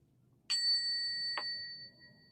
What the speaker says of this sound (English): we're going to ring the bell for healing